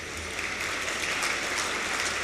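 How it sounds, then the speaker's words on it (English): Audience applause at a spiritual gathering in Indore: steady, dense clapping from many hands, sustained at an even level throughout without pauses or voices on top. "they are clapping"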